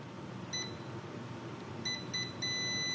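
A multimeter beeps during a continuity test on a faulty air compressor that won't start, with several short high electronic tones, one alone and then a cluster of quick beeps near the end, over a faint background hum.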